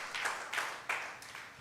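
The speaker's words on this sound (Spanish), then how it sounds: "Vamos, dele un aplauso a Jesús." Church congregation applauding during a sermon, a soft and distant spatter of clapping that rises and falls in a few brief swells.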